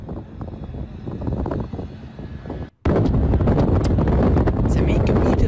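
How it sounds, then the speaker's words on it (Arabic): Strong wind blowing near a large fire roars against the microphone in loud low-frequency gusts, with a brief dropout midway before the roar returns even louder and steadier. "سمعين كميه الهواء يا اخوان، هواء مع نار صوت كارثه كمان"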